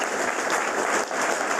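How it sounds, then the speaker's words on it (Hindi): An audience at a company event gives a short round of applause, a steady wash of clapping from many hands throughout. "चेक छोटा है लेकिन छोटी ताली मार रहे हैं"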